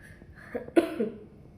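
A person coughs, with two or three short raspy bursts close to the mic in a quiet room and no speech.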